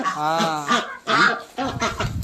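Farm ducks and chickens call loudly up close, three honking, quacking bursts separated by short gaps.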